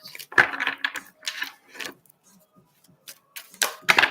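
Oversized Angel Tarot cards being shuffled by hand, giving a string of soft, papery riffling bursts and light taps with short pauses between them, close and fairly quiet.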